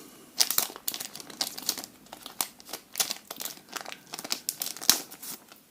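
An early-1990s J.League trading card packet is torn and crumpled open up close, a quick irregular series of crisp crinkling and ripping bursts with no voices.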